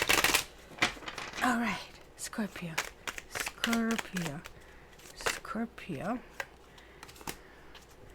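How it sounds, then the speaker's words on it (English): Tarot cards are riffled and shuffled in quick, crisp bursts of flicking and shuffling, close by, while a person talks over and between the shuffles. "It's a little bit more shuffling to get things in."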